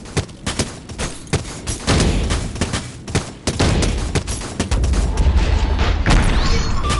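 An enemy boss fires rockets in the VR game Sairento, loud bursts of booming blasts and rapid gunfire packed closely together, with heavy low thuds that build into a sustained barrage.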